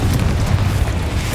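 A Confringo fire spell explodes in the Hogwarts Legacy video game, a continuous loud booming roar with dense low rumble and crackling burst texture across the whole moment.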